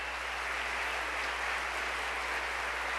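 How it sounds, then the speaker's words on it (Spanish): A church congregation claps in a sustained, even burst during a sermon, a dense hiss of many hands at moderate level held steady throughout, accompanied by a constant low hum. "déle ese aplauso fuerte al que vive"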